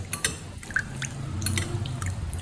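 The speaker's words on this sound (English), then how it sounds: "we will take 6 tablespoons of water." Water poured a tablespoon at a time for a Vietnamese spring roll dipping sauce, giving soft drips and small splashes close by in a quiet kitchen.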